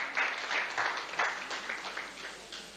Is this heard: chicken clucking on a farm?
no